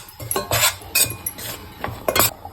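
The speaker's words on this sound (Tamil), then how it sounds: "முந்திரியும் மைதாவும் 10 நிமிஷம் வறுக்கணும்" A spoon stirring cashews and maida flour roasting in a pan, with about five sharp metallic scrapes and clinks in an irregular rhythm, close and clear, with no voices.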